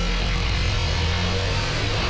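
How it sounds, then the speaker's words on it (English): A granular sampler sweeps through a recording made from a Lamborghini, producing a dense, continuous, smeared wash of morphing sound with heavy low rumble, loud and unbroken for its short length. "And now we can sweep through the original recording to make the sound morph."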